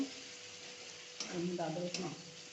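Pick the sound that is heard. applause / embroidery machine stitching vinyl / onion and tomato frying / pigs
onion and tomato frying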